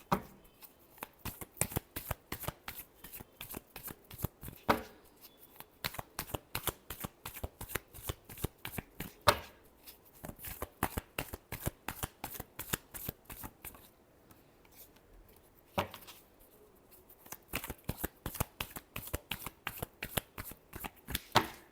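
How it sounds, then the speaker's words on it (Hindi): Tarot cards being shuffled by hand, a rapid run of crisp riffling snaps in quick bursts with brief pauses between rounds, close and clear with no talking. "Last shuffle."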